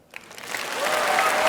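Applause swells at the Labour Party conference, a large hall audience clapping that builds from scattered claps into a dense, sustained roar of rapturous ovation.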